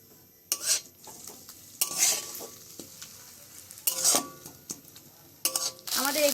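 Chopped ginger, garlic and onion are stirred in hot oil, with bursts of loud scraping and clinking of a utensil against the pan between quieter stretches of soft sizzle.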